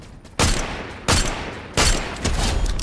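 Gunfire in the video game Fortnite, four loud, close bursts of rapid shots spaced roughly evenly, each starting sharply and trailing off.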